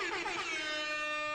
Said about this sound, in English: and then he also has the air horn.